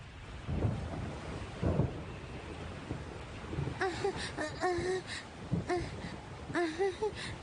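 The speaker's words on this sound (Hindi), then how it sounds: "अरे ये अचानक तूफान कहाँ से आ गया?" Sudden thunderstorm in a Doraemon cartoon: low rolling thunder rumbles and bursts over wind, with a strained vocal gasp, whimpering sounds, no clear words.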